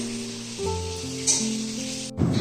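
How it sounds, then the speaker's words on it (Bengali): Chilli chicken frying in a home kitchen gives a steady, moderate sizzling hiss throughout, with sustained tonal background sounds running underneath. "এখানে দেখো চিলি চিকেন হচ্ছে, তোমাদের দাদাভাই চিলি চিকেন করছে"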